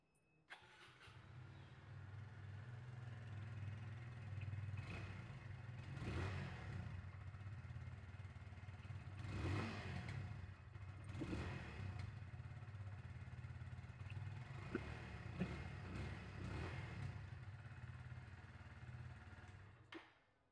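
A Kawasaki W175 motorcycle engine idles and revs through its exhaust in a steady mid-pitched thrum, with several distinct throttle blips that swell and fade, heard close and with no talk.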